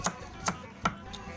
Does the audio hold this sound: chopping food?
yes